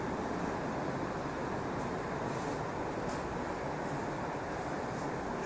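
A steady rumble of an EP2D electric train rolling along rails between Moscow Rizhskaya and Nakhabino, heard from inside a carriage, continuous low noise with faint rattles.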